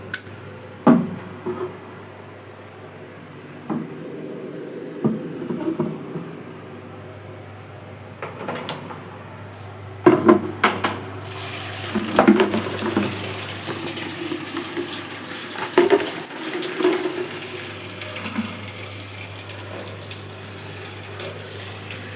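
Dishes washed at a home sink: a tap runs in bursts while plates and utensils clink and knock. The scrubbing grows busier and more continuous midway, fairly close and without talk.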